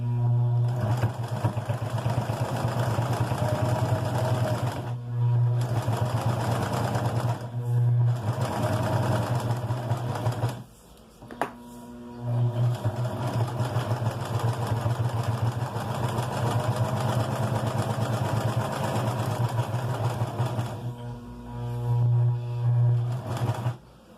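Sewing machine stitching fabric for an elasticized nap cover, a loud close mechanical whir running in long bursts separated by brief stops and a short quiet gap near the middle.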